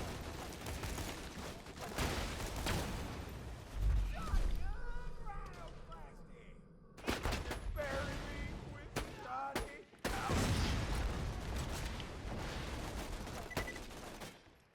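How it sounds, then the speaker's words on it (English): Gunfire bursts from a turret in the video game Borderlands 2, with rapid volleys and clattering shots mixed among other game effects, moderately loud throughout. "I know there's a gun turret around here somewhere."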